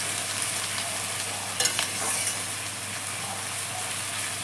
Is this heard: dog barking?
no